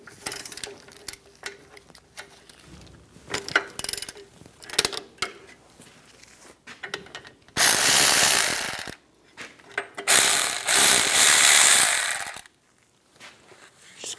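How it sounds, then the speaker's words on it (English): Socket and wrench loosening brake caliper bolts on a 2007-2014 Cadillac Escalade, with close metallic ratchet clicks and clanks followed by two loud sustained bursts of tool noise. "I'm going to use a 17mm socket and an 18mm wrench. Loosen up the caliper bolts"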